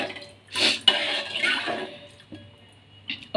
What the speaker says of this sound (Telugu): కొంచెం వాటర్ యాడ్ చేసుకొని